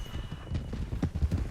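Horses walk in Red Dead Redemption 2, their hooves making close, uneven clip-clop thuds at a loose walking rhythm, alone without talk.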